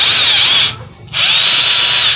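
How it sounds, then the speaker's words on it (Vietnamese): A cordless hammer drill being tested, whining loudly at a high steady pitch in two close bursts, cutting out briefly in the middle before spinning up again. "khoan thường, khoan búa anh em, này là khoan tường ok ha"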